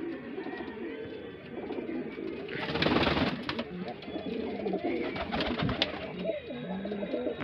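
Pigeons coo steadily through the scene, flying-breed birds kept at a loft in Bareilly, with the female of the pair among them; soft repeated coos and flutter-like bursts sit under faint background noise.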